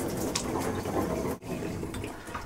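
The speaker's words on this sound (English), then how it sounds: "I'm going to run some water through the line just to make sure it's clear of debris." Water runs steadily through a hose line into an RV shower, a continuous close rushing flow with a brief dip midway before it resumes.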